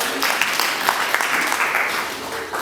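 A church congregation applauds during a Sunday afternoon service, a steady wash of clapping that fills the whole moment without a break.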